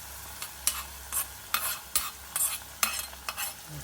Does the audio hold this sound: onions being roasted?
yes